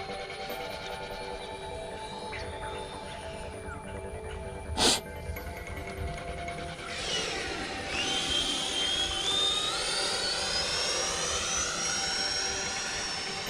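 A Horizon Hobby F-16 radio-controlled electric jet flying overhead, a distant ducted-fan whine with one sharp click, then a louder rising whoosh and sweeping high pitch as it passes nearer.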